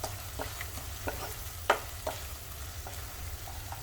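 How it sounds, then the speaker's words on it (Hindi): Cumin powder and garam masala roast in a pan for a spinach and potato curry, with a soft background sizzle and a series of quiet spatula scrapes at an uneven rhythm, one louder knock in the middle; no talking. "अब मसालों को भून लेंगे अच्छे से"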